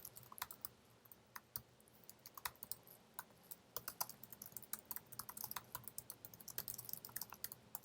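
Keys clatter on a computer keyboard in an irregular run of quick, close clicks with brief pauses, typed at a steady pace with no voices.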